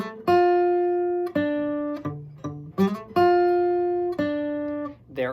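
An electric guitar plays the bass intro part of a song: sustained low notes ring for about a second each, broken up by short sliding and muted note pickups in a loose, repeating groove. The guitar sounds close and clear, with no talk.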